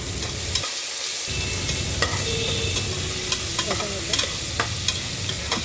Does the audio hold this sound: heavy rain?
no